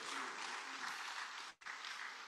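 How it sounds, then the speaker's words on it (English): A soft, distant wash of audience applause at a book presentation, continuous and even with a brief dropout midway, faint and steady throughout. "Please say a round of applause for him."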